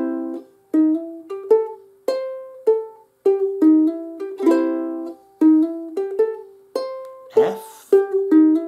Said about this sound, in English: So the first 2/3 of a 12-bar blues could sound like this.